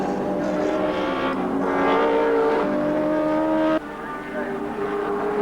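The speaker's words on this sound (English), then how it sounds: "Richards and Perkins still a dice for third on the road" Touring race cars at full speed on the Wanneroo circuit during the 1987 Australian Touring Car Championship round, engines droning loud and continuous with shifting pitch as cars dice for position, under race commentary.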